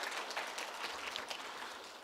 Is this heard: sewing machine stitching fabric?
no